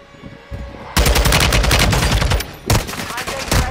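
Gunfire in Call of Duty Warzone 2.0 Zombies Royale mode: loud rapid automatic bursts, one long sustained volley followed by a brief gap and another burst, close and dominant.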